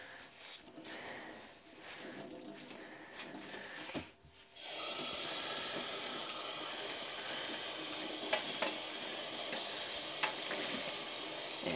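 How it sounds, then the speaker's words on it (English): Walnut-dyed fabric is washed in water at a sink. A quieter stretch of splashing and handling gives way to steady, close running water that continues to the end, with a few brief knocks. "Give it a good wash"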